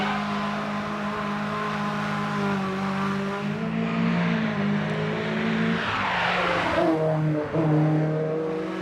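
A Renault Spider Cup race car engine roars and revs loudly with shifting pitch, tires squealing as it accelerates at the Nogaro circuit, no voices.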